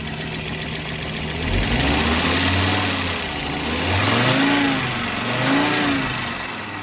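An Audi quattro coupe with the 7A 20-valve five-cylinder idles from cold with a tappety clatter, a steady close engine drone that rises and falls gently in a few slow swells, with no talking.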